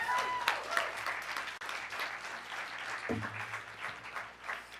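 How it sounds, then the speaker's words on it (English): A council meeting audience breaks into applause for a member, a steady wash of clapping that fills the room at moderate distance and slowly thins toward the end. "Can we all have a huge round of applause for Danny and his work this year?"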